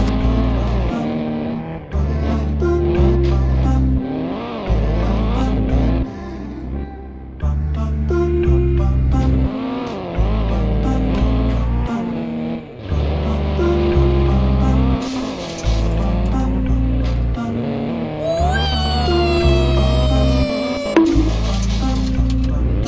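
A 2017 Audi R8 V10 Plus in the Roblox game Realistic Car Driving revs hard through a ramp jump, its loud engine climbing and dropping in repeated surges, with a high squeal near the end.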